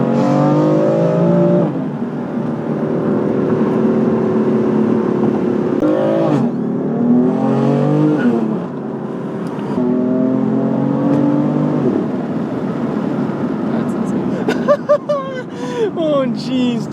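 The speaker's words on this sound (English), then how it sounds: "you can definitely hear the turbo more, and you can definitely hear the exhaust more" A loud, close F82 BMW M4 engine with aftermarket downpipes revs repeatedly, turbo and exhaust prominent, its pitch climbing and falling in bursts, with a sharper flurry of revving toward the end.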